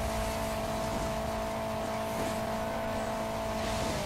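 A tractor engine in the mobile racing game Hill Climb Racing 2 drones steadily and loudly, a constant mechanical hum with slight shifts in pitch and no pauses.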